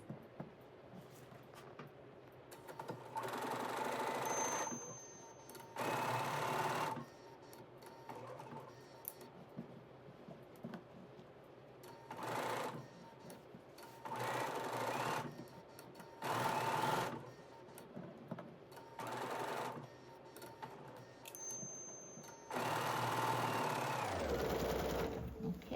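A sewing machine stitches the last seam of a Lori Holt quilt block in several bursts of steady whirring and clattering, some short and some longer. Quiet pauses separate the bursts, and a faint squeak comes near the end.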